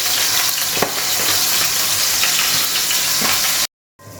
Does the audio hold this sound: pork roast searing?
yes